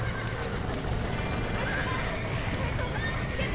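Horses in the video game Red Dead Redemption neigh and thud along at a run, hooves clopping steadily beneath constant talk and game ambience.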